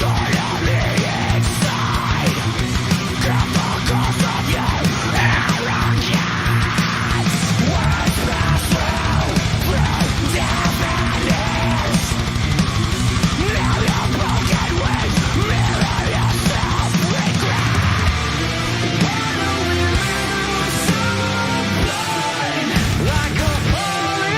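Screamed vocals in a metal song, loud and dense over heavy distorted guitars and pounding drums, sustained throughout at full intensity.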